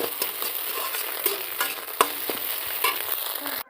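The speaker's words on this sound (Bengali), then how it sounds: "তো দেখো ডিমের ভুজিয়াটা হয়ে গেছে" Scrambled egg bhujia stirred and frying in oil in a pan, a steady close sizzle with a spatula scraping and tapping at irregular intervals, no talking.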